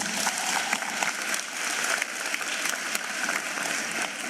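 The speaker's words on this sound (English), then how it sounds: "Let's give her a wonderful round of applause." A crowd at a matric results announcement ceremony claps steadily, a dense, even patter of many hands that holds without pause.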